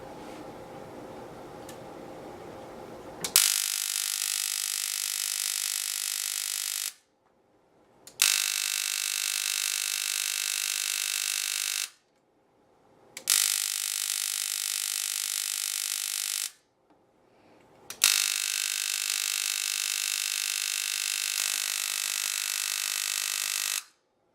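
Spark plugs fire from a Motor City Spark dual-spark CDI on a Yamaha Banshee 250R, a rapid buzzing crackle in four long bursts separated by short silences, close and steady, with no voices.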